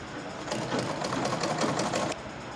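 A sewing machine stitches the side seam of a peplum top in one steady continuous run of fast mechanical whirring, close and alone, stopping near the end.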